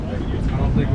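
Wind buffets the microphone aboard a fishing boat trolling over hard bottom on a slightly windy morning, a steady loud rush with no clear break.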